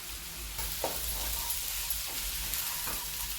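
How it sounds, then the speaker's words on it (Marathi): Papdi bean pods tipped into a pan of sautéing onion, giving a soft, steady frying sizzle with a few light clicks of a spoon or pods against the pan, quiet and close with no talking. "कांदा परतत आहोत आणि लगेच आपण शेंगा घालत आहोत"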